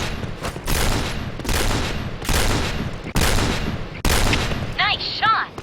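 Gunfire in the first-person shooter Point Blank comes as repeated heavy bursts, each a loud, booming volley separated by short gaps, with a brief voice cue near the end.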